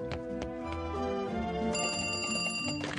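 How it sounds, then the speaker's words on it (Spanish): A telephone rings in a Gacha Life animated meme, a bright repeated ringing tone with clear pitched bell-like partials, loud and prominent over a light background, no speech. "debes atender el teléfono"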